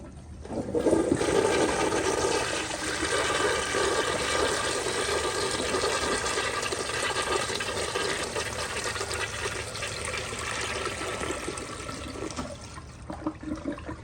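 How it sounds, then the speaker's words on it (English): A new-old-stock 1994 Eljer Kindergarten toilet with a mid-height tank, flushed with the handle held down: a loud sustained rush of water swirling through the bowl for about twelve seconds, tapering to trickling and refill. "I'm going to flush and hold down the handle."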